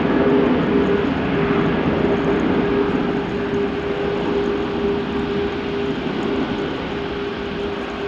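A Boeing 747 at rainy, wet Amsterdam Schiphol Airport gives a loud, steady jet roar with a sustained droning tone, constant and unbroken with no talk.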